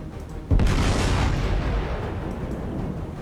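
Naval guns firing in the War on the Sea game, U.S. campaign battle: one heavy, booming salvo hits suddenly and rolls into a long, loud rumbling decay, with no talk over it.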